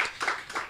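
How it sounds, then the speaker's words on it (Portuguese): A brief burst of hand clapping in a podcast studio, a few quick rhythmic claps from a small group, close and moderately loud. "Uma salva de palmas."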